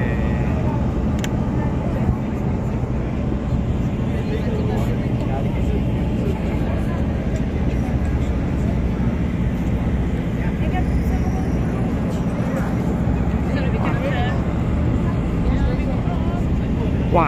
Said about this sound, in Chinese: 哇，有看到这个直升机啊！